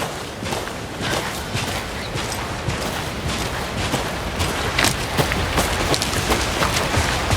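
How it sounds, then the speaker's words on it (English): Steady rain falls in the video game Alan Wake 2, a dense, continuous patter at even loudness throughout, with scattered sharper drops and possible footsteps mixed in; no one speaks. "Should have brought an umbrella. I like the rain."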